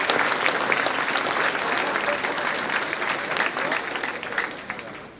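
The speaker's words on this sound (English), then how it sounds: "Let's get another round of applause." Audience applause for a high school choir, a steady wash of many hands clapping throughout, fairly even and moderately loud, tapering slightly near the end.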